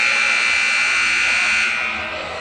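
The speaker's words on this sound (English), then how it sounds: "There's the buzzer." A loud, sustained electronic buzzer sounds in a high school volleyball gym. The steady tone holds for over two seconds, then fades slightly near the end, with faint background murmur beneath it.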